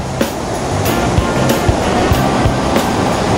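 Lintungan Falls waterfall in Nueva Vizcaya, running high with water, rushing as a steady, loud broadband roar with a few faint knocks scattered through it.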